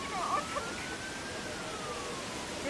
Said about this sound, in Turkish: Var var, ambulans geldi.